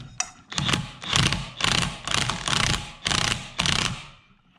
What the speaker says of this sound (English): I'm not torquing it with this impact.